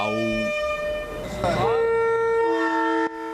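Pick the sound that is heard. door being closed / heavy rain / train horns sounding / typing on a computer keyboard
train horns sounding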